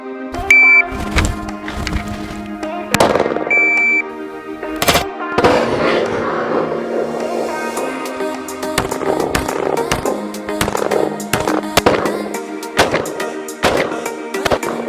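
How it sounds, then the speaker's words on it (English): A Smith & Wesson M&P45 pistol fires .45-caliber 230-grain rounds at a range, loud sharp reports in an uneven series of single and clustered shots with brief pauses between. "Let's send some of those .45 inch, 230 grain balls o' hate downrange."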